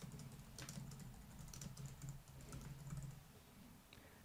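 Computer keyboard typing a name for a new flow, a close run of quick, light key clicks in an irregular rhythm, quiet and alone, trailing off near the end.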